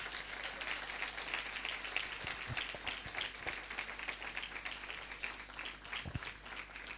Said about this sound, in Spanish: Den un aplauso al Rey de Gloria